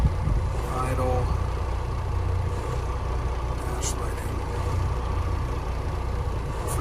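The engine of a 2020 Freightliner Cascadia 126 truck idles with the idle raised slightly. A steady, low, close diesel rumble runs throughout with no change in pace.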